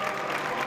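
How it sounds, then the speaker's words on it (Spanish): Applause fills a cathedral, the Concatedral de San Nicolás in Alicante, during a Holy Thursday procession, a brief dense wash of many hands clapping in a reverberant space. "aplausos"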